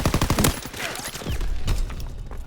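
Submachine gun fire in the World War II shooter game Call of Duty WW2, a rapid burst of close, loud shots at the start followed by scattered further shots and game noise.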